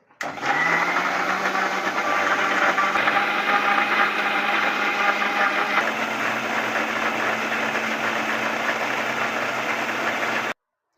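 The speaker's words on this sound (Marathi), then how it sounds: "आपण याला मिक्सरमध्ये बारीक फिरवून घ्यायचं आहे" A kitchen mixer grinds apple, beetroot and carrot continuously for about ten seconds, a steady loud whirring drone that stops abruptly at the end.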